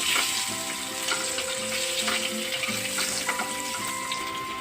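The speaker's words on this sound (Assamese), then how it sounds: "কণীকেইটা ৰংচোৱা হোৱালৈকে অকণমান ভাজি ল'ব লাগিব।" Eggs seasoned with salt and turmeric fry in a pan with a continuous close sizzle and crackle. Faint stirring or scraping taps sound over the frying, and no one speaks.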